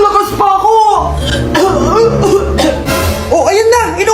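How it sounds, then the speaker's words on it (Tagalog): A 75-year-old man coughs in a comic skit, several rough coughs broken up with talk and chuckling voices around him. "Oh, ayan na. Inuubo na."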